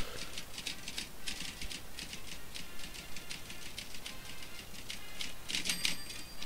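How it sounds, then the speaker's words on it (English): Rapid typewriter clacks in a video game cutscene, a quick irregular string of light keystrokes with a soft bell-like ding near the end, faint and alone. "typewriter clacks."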